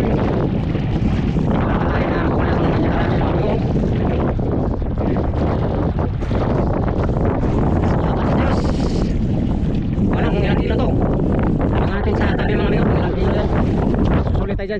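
Steady, loud wind rumbling and buffeting outdoors at sea from a fishing boat, roaring continuously with gusts, with occasional voices partly buried beneath it.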